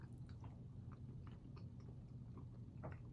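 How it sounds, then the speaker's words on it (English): Close, quiet crunching and chewing of salted dark chocolate with big salt pieces, irregular bites breaking something hard, with no talking over it. "You hear me crunching?"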